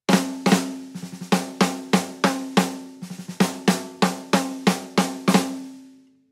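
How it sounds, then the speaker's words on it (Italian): Snare drum miked with added room microphones placed outside the room, loud cracks in a steady pattern with quicker fills, each hit carrying a fuller, longer ringing tail, played alone. "E adesso sentite il rullante con l'aggiunta dei microfoni che ho fuori dalla stanza."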